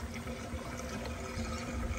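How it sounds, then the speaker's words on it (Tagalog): Water being scooped up as a sample from a pond or tank, a soft steady wash of liquid sloshing and pouring, faint and continuous with no talking. "So kukuha tayo ng sample ng tubig."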